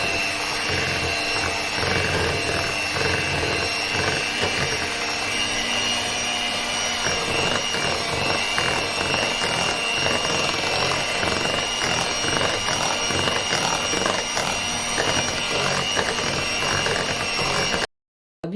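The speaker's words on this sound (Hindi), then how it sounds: "अब हम बीटर लेके फ्लोर और बाकी चीज़ें जो है अच्छे से इसमें मिक्स करेंगे" An electric beater whirs continuously through banana cake batter as flour and other ingredients are mixed in, a loud, steady, close motor drone that cuts off abruptly near the end.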